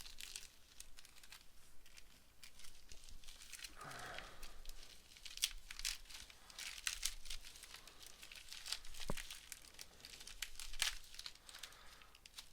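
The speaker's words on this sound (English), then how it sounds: "Oh, this one I guess I can rip this by hand." Packaging tape is torn by hand while unboxing trading cards, heard as quiet, close crinkling and tearing with a few sharp rips scattered across the stretch; no one speaks.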